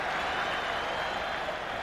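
A football crowd at a 1995 Raith Rovers UEFA Cup match breaks into brief, steady applause, a wash of many hands clapping at a distance, with a commentator speaking over it.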